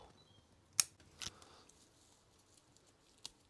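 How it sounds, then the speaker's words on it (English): Scissors snip juniper shoots off the underside of a branch, a few sharp isolated clicks, one loud close cut followed by a softer double snip and a later faint one, in otherwise quiet surroundings. "Anything that's growing off the bottom of that branch we can cut off."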